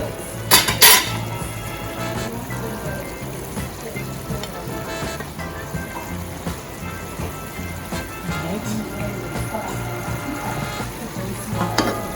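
Peppers and onions sizzle as they fry in a pan on a home stove, a steady close crackle with utensils clattering against the pan at the start and scraping through the mix.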